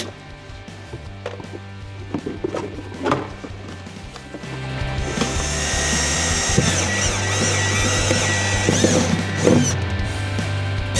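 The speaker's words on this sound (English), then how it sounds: "First I drill some marks in reverse, so it doesn't chew up the plastic." A power drill running in reverse bores holes in a plastic fender flare, a steady whirring drone building midway after some handling clatter and knocks.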